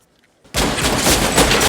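Gunfire in a crime thriller film scene, where a man abruptly opens fire before fleeing, breaks a near-silence into a loud, dense, continuous volley of shots that keeps going to the end.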